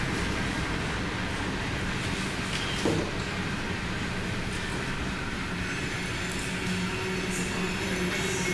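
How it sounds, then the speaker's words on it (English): A long freight train of empty cars rumbles past some distance away, a continuous, steady roar with faint wheel squeal and clatter, one brief louder knock partway through, and no talk. "Long train."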